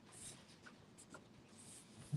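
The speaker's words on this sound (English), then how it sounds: "This glue stick, I don't know how old this thing is, but it smells. So we're going to stick this down." An old, smelly glue stick is rubbed onto paper in quiet, soft papery strokes, ending in a small bump as the paper is pressed down.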